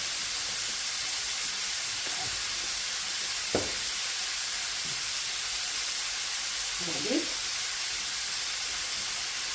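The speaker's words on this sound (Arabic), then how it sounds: "السباغيتي تاعنا راهو بدا يغلي" Steady broadband hiss and bubbling of a pot of spaghetti at a rolling boil, with a few faint clinks and knocks in the background.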